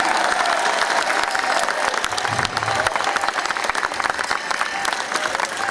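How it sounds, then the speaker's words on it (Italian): Sustained crowd applause for Lega party activists at a political rally in Veneto, a dense steady roar of many hands clapping with some cheering mixed in, loud and continuous throughout. "Fatelo sentire l'applauso per i nostri militanti."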